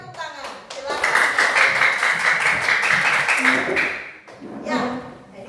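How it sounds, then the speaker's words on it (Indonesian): Children clap their hands together in a classroom, a dense, loud burst of rhythmic clapping lasting about three seconds, followed by a brief second flurry, with voices chanting over it. "Oke, tepuk tangan."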